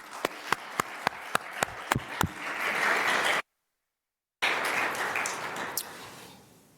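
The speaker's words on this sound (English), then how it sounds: "So please give them a round of applause that they can see and hear remotely," Applause from the audience at a county board hearing builds from a few sharp, separate claps into a dense ovation, cuts out briefly, then returns just as full and slowly fades.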